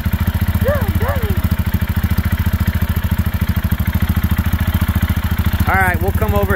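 A 2021 Royal Enfield Himalayan motorcycle idles close by with a steady, rapid low thump that never lets up, while voices chatter briefly over the engine.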